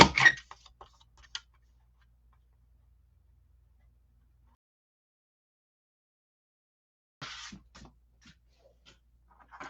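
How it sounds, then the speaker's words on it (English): A Stampin' Up! paper trimmer slices cardstock, heard as two short bursts of close, dry scraping clicks separated by a long silent pause. "So I'm going to cut off about 1/8 of an inch on the sides and on the top and the bottom."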